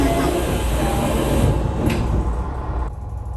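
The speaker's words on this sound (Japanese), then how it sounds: "発車時刻になったら扉が閉まります。" JR Shikoku local train bound for Tokushima at Naruto Station, doors sliding shut as the car prepares to depart, heard over a steady loud rumble of the carriage interior with a brief mechanical hiss and clunk near the end.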